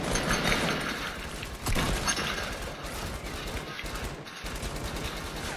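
Rapid gunfire in a Fortnite match, a dense barrage of automatic shots and crackling impacts running continuously and loudly throughout, with brief dips, under a busy game soundscape.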